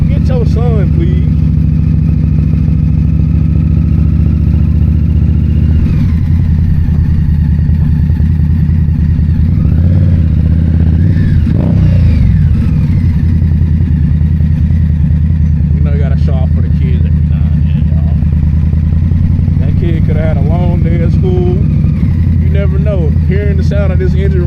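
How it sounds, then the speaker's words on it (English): An Indian Scout Bobber motorcycle engine idles and rumbles steadily and loudly up close for the whole stretch, with a couple of swells in revs, while people talk over it. "Hearing the sound of this engine roar might make him smile"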